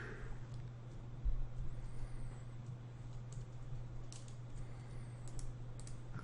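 Keyboard typing inside the game Tex Murphy: Overseer, a quiet run of clicky keystrokes over a steady low electrical hum, with a brief louder burst of keys early on.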